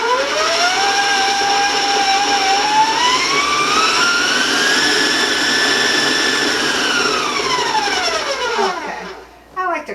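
An electric mixer beating cookie dough: a loud, steady whirring motor drone whose pitch slowly rises, holds, then falls as it winds down and stops near the end.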